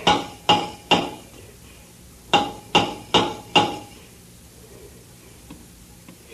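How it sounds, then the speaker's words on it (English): Hammer blows knocking on the steel hull of a submarine deep underwater, two sharp strikes, a pause, then four quick evenly spaced knocks, close and ringing, with no voices. "Take the hammer and answer his signals."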